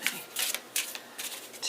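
Tarot cards riffle-shuffled in several quick bursts, each a papery flutter separated by short pauses, close and moderately loud with no voice over them.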